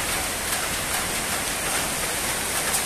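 Heavy rain pours steadily during a flood in a narrow village lane in Kampung Pandan, Kuala Belait, Brunei, a dense, continuous hiss with no pauses and no voices.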